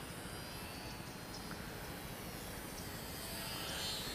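Steady buzzing whine of a small Mini Trainstar RC airplane's electric motor near full throttle, continuous and fairly distant outdoors, with no talking.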